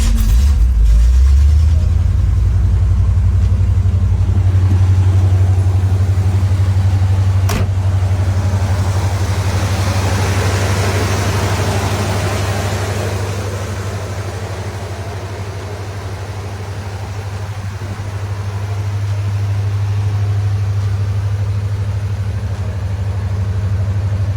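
A 1969 Chevrolet Chevelle SS Tribute muscle car engine starts and idles, a loud close low rumble that settles into a steady throb, dips slightly midway, then swells again, with no talking.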